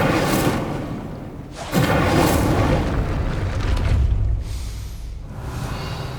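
Incendio fire spell in Hogwarts Legacy, heavy booming fiery bursts with a rumbling low roar, a fresh blast hitting partway through and crackling flame noise trailing off, loud and close.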